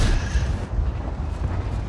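Tank ramming another tank in World of Tanks, with a T28 HTC involved: a heavy, low thud at the start followed by a sustained deep rumble of engines and battle noise, loud and close.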